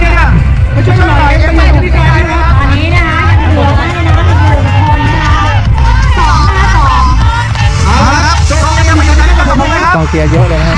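Dense crowd noise at a triathlon race festival in Thailand, a steady wash of chatter and cheering that runs the whole time, with a commentator's voice talking loudly over it.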